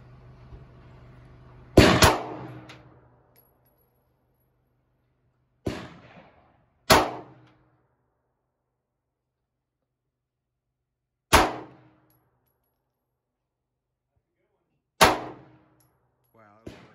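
Gunfire at a shooting range: five sharp, loud reports spread unevenly with long silent gaps between them, each a sudden crack with a brief echoing tail.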